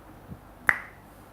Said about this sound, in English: snapping my fingers from the start to the finish of snapping them